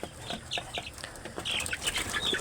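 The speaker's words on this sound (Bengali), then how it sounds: "দেখুন আমার এইগুলা হচ্ছে ফার্মি মুরগি" Farm-raised broiler chickens cluck faintly and steadily, with a scatter of short, soft calls and the occasional light wing flutter somewhat distant in the coop.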